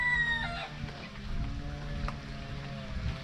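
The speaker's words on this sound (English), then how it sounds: "they got some more chickens" Chickens clucking softly nearby, with a few short calls over a low steady background rumble.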